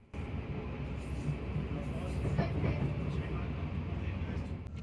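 A 10-coach passenger train runs from Woking towards London Waterloo, heard from inside the middle of the train as a steady low rumble with rising wheel and track noise.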